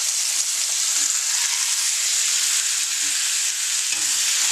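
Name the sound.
bacon-seared chuck roast sizzling in pan after flipping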